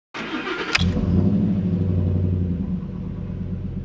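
A Ford F-150 pickup engine starts with a sharp crank, then settles into a steady, low rumbling idle that stays close and fairly loud before easing slightly near the end.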